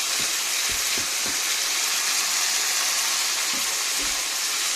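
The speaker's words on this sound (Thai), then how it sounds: "ผัดลูกชิ้นให้หอมก่อน ให้สุกก่อน" Meatballs stir-fry in a hot pan with a loud, continuous sizzle, punctuated by a few soft scrapes and knocks as they are tossed.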